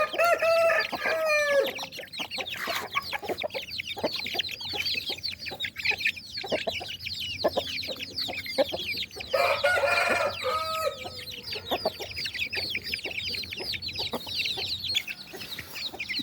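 Farm chickens and roosters cluck busily while pecking at moistened feed, with scattered sharp calls and one brief louder squawk burst, close by and without talk.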